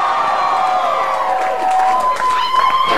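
A dense crowd cheers and whoops for a live band performing in a music store, loud and continuous with shrill shouts rising near the end.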